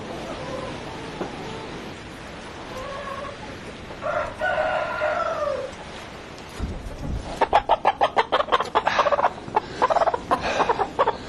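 A flock of chickens clucks nearby, then a rooster lets out a stretched crow, followed by a rapid burst of loud, rhythmic gobbling calls.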